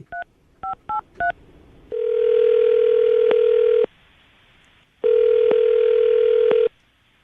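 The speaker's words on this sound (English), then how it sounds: "I'm going to dial the phone number right now." A telephone gives four quick touch-tone keypad beeps, then two long, steady tones separated by a short silence, clear and alone.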